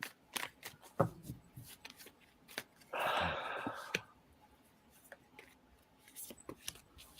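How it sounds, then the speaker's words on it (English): Tarot cards are shuffled by hand at a reading table, a quiet riffle with a brief fuller burst in the middle, surrounded by soft taps and clicks of cards in a hushed room. "While Brooke is shuffling, just open yourself up."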